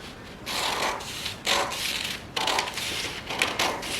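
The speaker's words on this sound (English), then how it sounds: "So let's grab our scissors and let's cut." Scissors cut a paper sewing pattern along pencil lines in a series of close, crisp snips and rustles, about four distinct cuts with short pauses between them.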